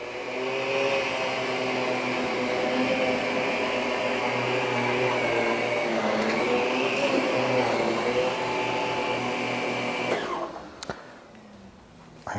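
A Miele Guard L1 vacuum cleaner runs on low suction with a steady, loud whirring drone. It cuts off abruptly near the end, leaving a quiet tail with a brief click.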